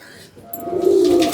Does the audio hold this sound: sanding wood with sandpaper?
no